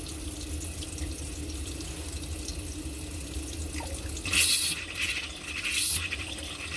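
Water runs from an RV tap during winterizing, with a bike pump holding pressure: a steady, close hiss of flow, broken near the end by two brief louder bursts as the water spurts and sputters out.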